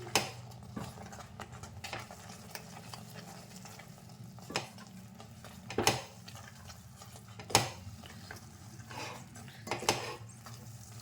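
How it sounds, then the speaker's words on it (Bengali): Fried boras being stirred into a ladoo mixture in a pan, with soft scraping and occasional sharper clinks of a spoon against the metal, steady and close over a low background hum. "বড়াগুলো আমি দিয়ে দিচ্ছি খুব ভালো করে মিক্স করে নিচ্ছি"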